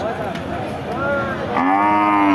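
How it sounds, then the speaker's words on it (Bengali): Thin, bony cattle at a Bangladeshi cattle market give a couple of loud, close moos, one rising into a long drawn-out bellow over a steady murmur of market background noise. "হাড্ডিসার গরুগুলো আপনাদেরকে দেখানোর চেষ্টা করছি"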